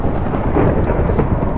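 Continuous rolling thunder rumbles on steadily in a Minecraft UHC game, loud and low without a sharp onset, with a faint rain-like wash layered over it.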